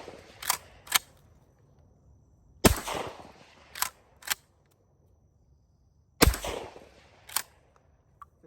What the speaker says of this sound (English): I'm just shooting at some basic steel downrange.